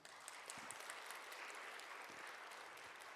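A church revival service congregation claps in a continuous patter of applause, heard faintly and at a distance, steady throughout.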